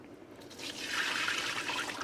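Warm water splashes and trickles out steadily from a pot of mozzarella curd, swelling midway and running on as a continuous pour.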